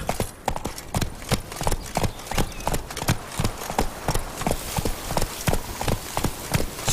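Hooves of Roach, a horse in The Witcher 3, galloping steadily in a quick repeated clip-clop rhythm, close and loud across the whole stretch, with no talk over it.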